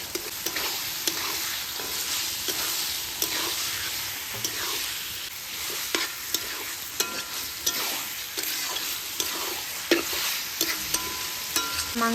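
Small pieces of meat frying in spice-laden oil for a Santali leaf-wrapped meat pitha, giving a steady close sizzle with repeated scraping and stirring clicks throughout and no voices.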